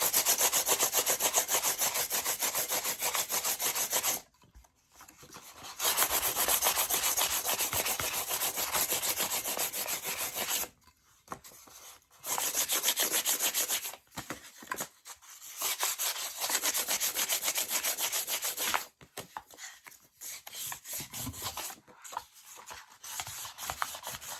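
Rough, gritty sanding scrapes on a glitter epoxy tumbler in long continuous bursts, broken by short pauses, close and fairly loud, with no talking.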